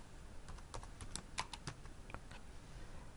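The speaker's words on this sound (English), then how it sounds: "Instead, I'll start typing." Typing on a computer keyboard, a quiet run of irregular, crisp key clicks heard close and alone over a soft background hiss.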